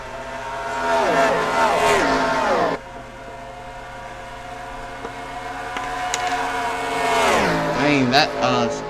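NASCAR Cup race cars in the NR2003 video game roar past one after another at the Coca-Cola 600, loud engine whines rising and dropping in pitch as they pass, with a quieter stretch in between.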